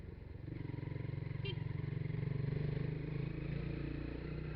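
A motorcycle rides slowly past a toll booth, its engine holding a steady, close rumble with a brief clatter partway through.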